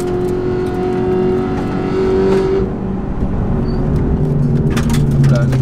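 A Peugeot 308 ByFactory laps the Nürburgring, its engine droning steadily from inside the cabin with shifts in pitch as it pulls, loud and continuous, with a voice now and then over it.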